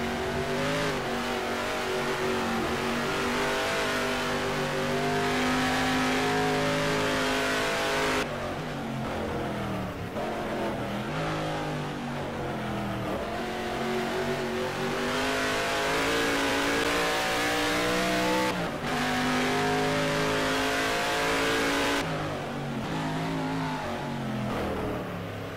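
Race cars at the HSO Gold Star Mission Bell 200 roar past with engines revving and shifting, a loud continuous whine rising and falling in waves as they accelerate through the laps.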